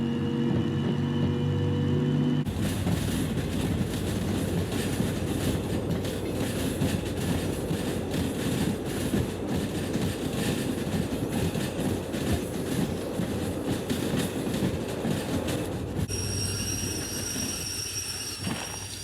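A train rolls along rails in the railway simulation game Derail Valley, a steady loud rumble with rapid clickety-clack wheel beats and a faint squeal, continuous throughout with no talking.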